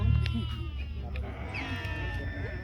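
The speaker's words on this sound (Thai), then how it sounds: "เป็นแกะสายพันธุ์คอริเดียค่ะ" Corriedale sheep bleating on a farm, a few close bleats rising over steady background noise and a low hum.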